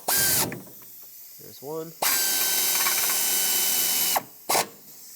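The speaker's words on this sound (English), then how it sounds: "let's start these on and bottom them out, and then we'll come back and torque them" Bolts on a 2012-2020 Ford Focus water pump being run down with a ratcheting power tool, heard as loud close bursts of whirring spin separated by brief clicking ratchet work, with a short spoken remark between runs.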